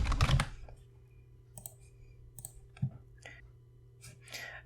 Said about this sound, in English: So if you just type in Cranoke in the search,